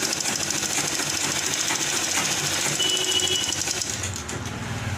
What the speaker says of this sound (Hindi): यहाँ पर एक फिनिशिंग वाली सिलाई चलाऊंगी।